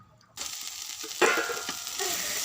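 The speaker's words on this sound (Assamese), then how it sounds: "এতিয়া ভাজিখন বনাওঁ" A vegetable bhaji fries in a pan, starting with a sudden loud sizzle as ingredients hit the hot oil, then settling into steady crackling with stirring noises.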